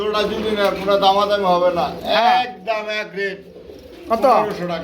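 Pigeons coo at a pigeon sale, their rolling calls mixed in with nearby human voices talking over them.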